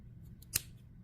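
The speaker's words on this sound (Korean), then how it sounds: "이렇게 가위밥을 좀 내서" Scissors snipping notches into the fabric seam allowance of a small handmade phone crossbody bag: one sharp, close metallic snip over a faint background hum, alone with no voices.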